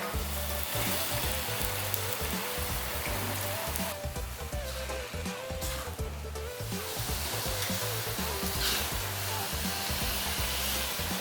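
Fish frying in a pan with yellow spice paste for an Indonesian yellow fish soup, a loud, dense, continuous sizzle under steady background music, with occasional stirring.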